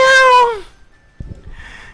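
A person imitates a cat with a single loud, drawn-out falling meow-like cry, followed by faint background noise and a short burst of voice.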